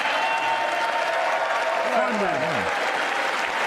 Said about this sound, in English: He's wondering why everybody's clapping